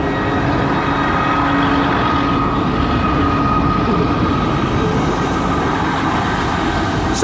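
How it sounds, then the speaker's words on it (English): A train rolls steadily past at close range, a loud continuous rumble and clatter of rail cars holding an even level throughout with no talk over it. "there's the train that we just waited 2 minutes for"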